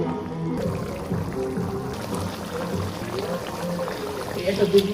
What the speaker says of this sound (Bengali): এর ভেতর আমি এখন পরিমাণ মতো পানি দিয়ে দেবো রান্না করার জন্য।